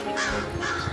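A cartoon crow gives two loud, close, harsh caws in quick succession.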